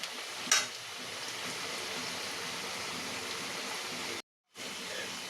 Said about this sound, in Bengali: দেখো বন্ধুরা, আমার লাল লাল করে পেঁয়াজিটা ভাজা হয়ে গেল